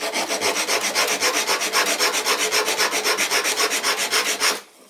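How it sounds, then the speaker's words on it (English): Coarse 60-grit sandpaper rubbing back and forth across the corner of a scrap wood board, a steady rhythmic rasping of even, close strokes that cuts off abruptly at the end. "This is really coarse sandpaper, like 60 grit or something."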